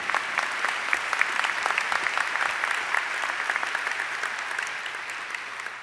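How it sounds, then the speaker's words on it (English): A large audience at a medical school commencement and hooding ceremony breaks into sustained applause, a dense crackle of many hands that stays full and even before easing slightly at the end. "Yeah, let's clap for that."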